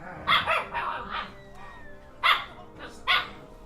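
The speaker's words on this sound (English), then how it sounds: "Enjoy the dog banter." Several dogs bark and yip indoors in a room, in close, loud bursts: a cluster of barks at the start, then two more sharp yaps after a pause, with a faint voice between them.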